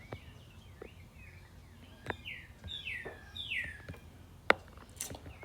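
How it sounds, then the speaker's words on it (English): A cardinal sings in the background, a few clear whistled, down-slurred phrases repeated at a moderate distance, with faint chirps and a sharp click near the end. "Pretty sure that's a cardinal."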